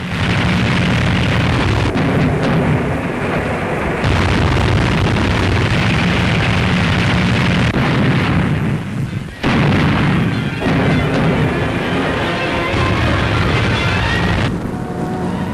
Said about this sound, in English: In a moment you'll see a direct hit and the crash that followed.